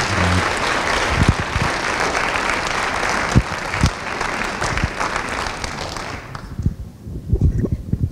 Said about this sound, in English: if I could have a round of applause for our panelists